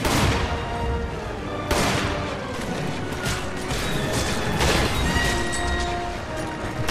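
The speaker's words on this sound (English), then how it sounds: "you shoot him till like his back opens up, and then I shoot the back" Gunfire in Resident Evil 5 co-op play, with repeated sharp loud shots and crashing impacts over a dense, continuous game soundscape and no talk.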